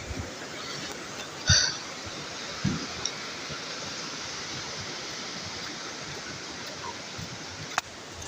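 Water falls over rocks at a waterfall in a constant broadband rush, steady and enveloping, with a few brief knocks and clicks cutting through.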